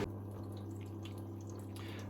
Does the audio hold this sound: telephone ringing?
no